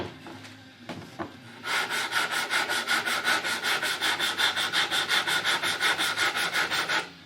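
Rhythmic back-and-forth strokes of 120 grit sandpaper rubbing the wooden body of a Les Paul guitar kit, about twenty close, even scratchy passes following a few taps at the start, with no talk.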